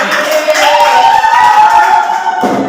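A school audience claps for a student, a steady wash of many hands with a faint sustained tone over it, ending in a brief final swell.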